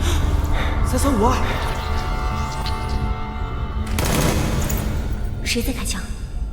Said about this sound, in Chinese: 谁在开枪？